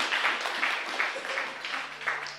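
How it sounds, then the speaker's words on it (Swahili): Audience at a church conference breaking into applause for the host pastor, a dense, fairly loud wash of clapping hands in a hall, steady with rhythmic swells, a faint voice beneath. "mchungaji mwenyeji Pastor Enoch Charles, tumpigie makofi makubwa"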